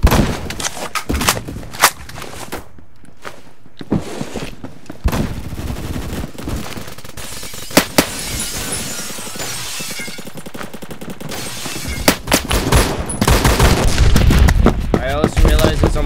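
Phantom Forces gunfire in a subway station: loud, close bursts of rapid automatic shots mixed with single sharp cracks, scattered across the clip amid distant battle noise, with intermittent game sounds between volleys.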